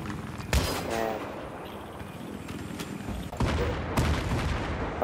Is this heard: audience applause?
no